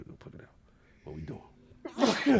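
A single sharp sneeze bursts out near the end, loud and close, after a stretch of casual conversation between people talking.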